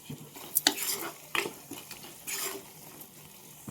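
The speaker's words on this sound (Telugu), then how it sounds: "తగినంత సాల్ట్ సరే బాగా కలుపుకోవాలి" Prawn pickle being stirred with salt, chilli powder and spices: a few sharp scraping clinks of a spoon against the vessel, with soft wet mixing in between, close and moderately loud, no voices.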